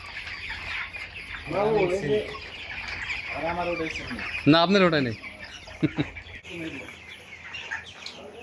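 Broiler chickens on a farm cluck and squawk in bursts, several loud calls close by over a low barn hum, while someone speaks briefly.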